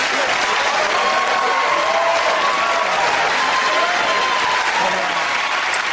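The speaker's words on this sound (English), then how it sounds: "cheers and applause to our winners" A studio audience at a comedy panel show applauds and cheers for the winning team, a loud, continuous roar of clapping that stays dense and unbroken.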